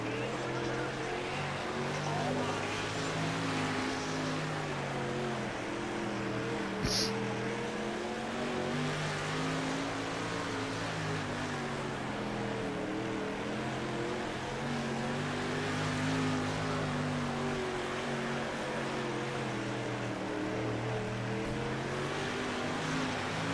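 World of Outlaws sprint cars race at Fairbury, their engines blending into a sustained, steady roar that rises and falls only slightly as the field circles the track.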